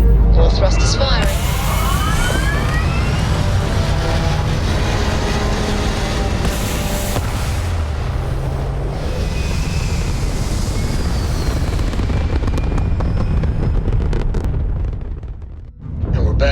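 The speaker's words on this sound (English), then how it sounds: "All thrusters firing." Spaceship thrusters fire in the video game Starfield, producing a loud, continuous, close roaring rumble with rising whooshing sweeps over about fifteen seconds before cutting out.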